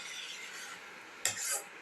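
A spoon stirs a cauliflower, tomato and rice soup mixture in a casserole, giving a short scraping burst near the end after quiet background noise.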